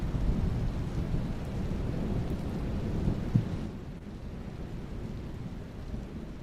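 Steady rain and rumbling storm noise fill the background, with a brief low thunder crack near the middle before the roar eases slightly.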